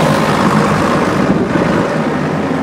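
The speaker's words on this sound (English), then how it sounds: "Got a speedboat behind us there." A speedboat runs on Rancocas Creek by an old railroad bridge, its loud, steady engine roar mixed with rushing water and wind buffeting the microphone, continuous with no pauses.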